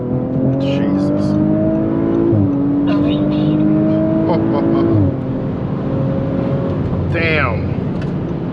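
A 2019 Audi RS5 accelerates hard under full throttle, heard from inside the car as a loud engine note that climbs through the revs, drops with each gear change, and climbs again.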